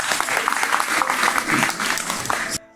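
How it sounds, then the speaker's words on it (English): An audience claps steadily through a matriculation ceremony at the University of Yaounde 1 English Department. The applause is dense and sustained, with no talk over it, and cuts off abruptly just before the end. "Let us applaud them as well."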